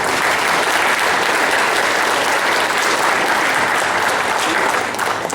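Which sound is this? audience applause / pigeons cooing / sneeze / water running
audience applause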